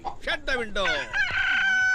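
A rooster crows loudly and close by in a comic film scene, its long rising-and-falling call carried over a brief spoken line.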